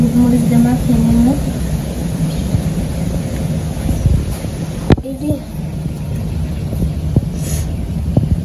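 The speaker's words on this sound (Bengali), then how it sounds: "কি যে বাতাস" Strong outdoor wind buffets the microphone with a loud, steady low roar and gusty rumble while someone cooks fish in a wok, a voice speaking briefly at the start and a sharp knock midway.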